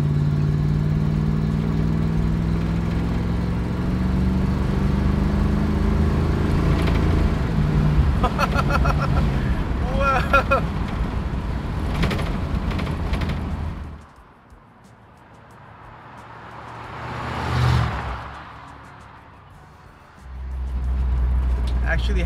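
A 1968 Ford Torino with a swapped-in Ford AOD transmission accelerates through its gears with engine drone and road noise, then quiets as it coasts before the revs rise again. People talk over it.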